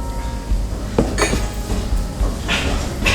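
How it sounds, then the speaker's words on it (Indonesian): A spoon stirs food in a cooking pot as it heats toward a boil, giving irregular metallic clinks and scrapes against the pot over a steady background rumble. "Diaduk-aduk sampai mendidih"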